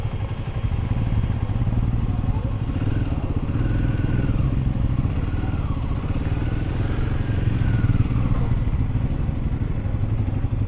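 Motorcycle in a hotel parking area in Padum, its engine idling with a steady low rumble throughout, plus occasional clatter and thumps as the bike is stopped and parked.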